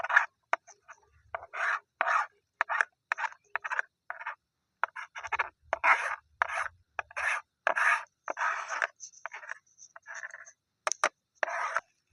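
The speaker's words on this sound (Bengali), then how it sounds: "এটাকে আরো সুন্দর করে আমরা মিক্স করে নিচ্ছি, আপনারা দেখতে পাচ্ছেন, যাতে সমস্ত মশলাটা বেসনটার সঙ্গে সুন্দরভাবে মিক্সড হয়ে যায়" Besan batter with spices for water lily pakora is whisked in a bowl, making brisk, close scraping and slapping strokes in an uneven rhythm with brief pauses and no voices.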